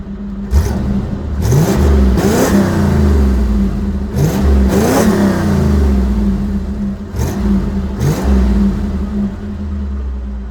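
A 1983 Monte Carlo with Flowmaster Super 44 mufflers idles with a deep, loud exhaust rumble and is revved hard several times, each burst rising and falling back to idle, heard close from outside the car.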